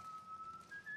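A single person whistles one steady, faint sustained note that steps slightly higher near the end, heard alone without talk.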